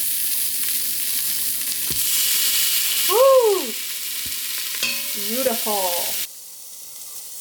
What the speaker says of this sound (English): once I start chucking it in, it should like really sizzle